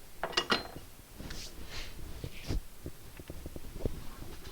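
A Robert Sorby Pro Edge belt sharpening system runs with a steady mechanical whir, broken by scattered knocks and rattles as a woodturning gouge is sharpened.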